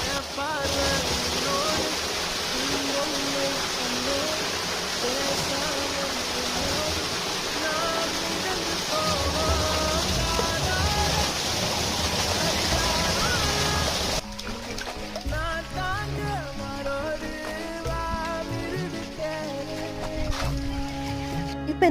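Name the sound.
rinsing amla gooseberries in water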